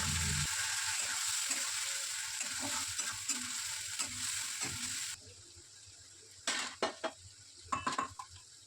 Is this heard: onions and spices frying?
yes